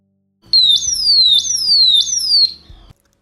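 Test sound of an ultrasonic pest repeller, an electronic alarm of repeating sweeping chirps in a fast, regular pattern, loud and close, with a steady low hum underneath before it cuts off.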